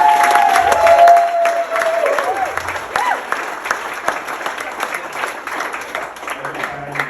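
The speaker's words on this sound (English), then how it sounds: "give them a quick round of applause" Applause from wedding guests for a newly married couple, a dense patter of many hands sustained throughout, with a voice briefly rising over the start and cheering mixed in.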